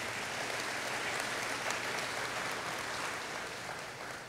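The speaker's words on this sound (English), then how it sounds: "Let's have a round of applause for those folks who have joined us here today" Audience applause for school officials at a high school class day ceremony, a faint, distant, even wash of clapping that holds steady throughout and tapers slightly at the end.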